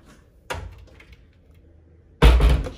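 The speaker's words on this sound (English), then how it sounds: "I'll go ahead and open a cabinet." A kitchen cabinet door opens with a soft thump, followed moments later by a louder, fuller knock as the door swings or settles, in a quiet room.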